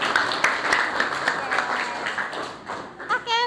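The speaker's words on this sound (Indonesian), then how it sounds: "Tepuk tangan sekali lagi dong." Classroom audience at a teacher-training session clapping in a brief burst of uneven claps, with a voice speaking over it near the end.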